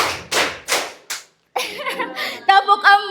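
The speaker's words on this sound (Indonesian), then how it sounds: "Tepuk 1, tepuk 2" A group of people claps together in counted single claps, a few sharp separate bursts followed by a short pause, then voices and laughter over the last claps.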